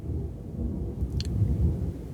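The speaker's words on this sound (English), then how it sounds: "can you hear that thunder?" Low rolling thunder rumbles through a stormy night, a continuous deep drone that swells slightly toward the end, with a brief faint high tick partway through.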